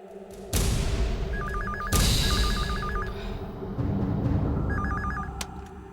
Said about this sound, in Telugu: రే రింగ్ అవుతుందిరా